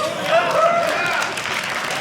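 A comedy club audience gives a brief round of applause mixed with laughter and crowd voices, fairly close and steady for a couple of seconds.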